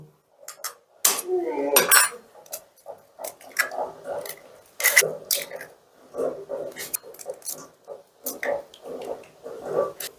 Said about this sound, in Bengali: এবার ডিমগুলোকে আমি একটা পাত্রের মধ্যে ফাটিয়ে নেব